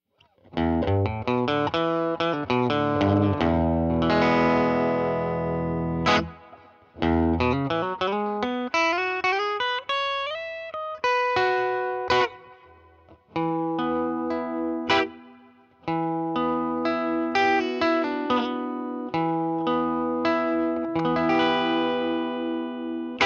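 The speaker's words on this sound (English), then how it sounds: "And now with the reverb on." An electric guitar played through a Purdy Tube Amps reverb pedal into a tweed amp rings out in chords and melodic runs, with reverb tails lingering between phrases, loud and steady throughout with no talk.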